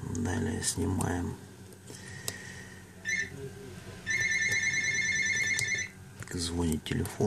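A phone rings with a repeated electronic ringtone during repair of a Sony Xperia Z3, sounding moderately loud in short bursts over background talk and handling noise.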